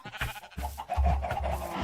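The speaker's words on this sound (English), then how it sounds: "We got 2 sheep." Sheep in the Minecraft video game bleating, two or three short, close bleats in quick succession with no talk.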